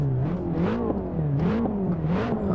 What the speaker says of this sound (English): Oh, that's a good sounding car there.